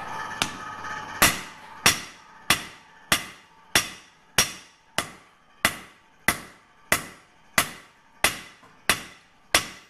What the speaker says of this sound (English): Got to hammer at a slight angle right on the edge so that you can make it as thin